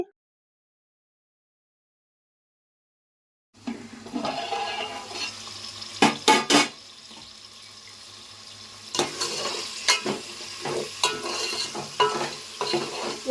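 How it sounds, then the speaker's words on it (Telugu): Cooked gongura leaves being mashed with a masher in a pot for prawn biryani, wet squelching and stirring sounds with sharp clanks of the masher against the pot, starting after several seconds of silence. "గోంగూర అయితే ఇలా మ్యాషర్తో మ్యాష్ చేస్తున్నానండి"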